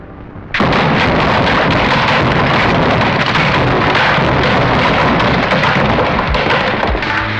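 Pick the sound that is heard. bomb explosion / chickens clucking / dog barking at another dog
bomb explosion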